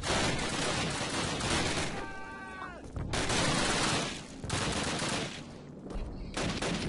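Machine gun fire in the Call of Duty video game, loud sustained bursts of rapid automatic shots with brief gaps between volleys and a short pause near the middle.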